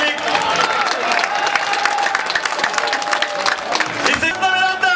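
A football stadium crowd applauds the Veroe team at a Litex Lovech title celebration in Lovech, with steady dense clapping and crowd noise over music, a brief cheer rising near the end.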